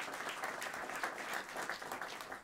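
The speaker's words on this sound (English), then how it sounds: "Let's give the Mayor and Governor another round of applause." A crowd claps at a public announcement event with the Governor and the Mayor for the 5/14 Memorial Commission. The applause is a steady, moderately distant wash of many hands, even in level and uninterrupted.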